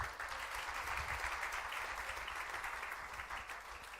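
Conference audience applauding in a design hall, a steady dense wash of clapping sustained for about four seconds at moderate level with no voices over it.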